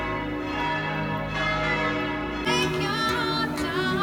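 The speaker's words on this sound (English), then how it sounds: "All the church bells are ringing." Church bells peal steadily in an Italian city, their layered, sustained tones ringing together loud and continuous, with a fresh strike swelling partway through.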